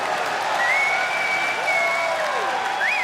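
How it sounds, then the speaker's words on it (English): Arena crowd at a CS:GO esports semifinal between SK and Cloud9 at the ELEAGUE Major 2018, applauding in a dense, steady roar of clapping while a commentator's voice carries over it. "The crowd appreciating this Cloud9 lineup that Jack has put together."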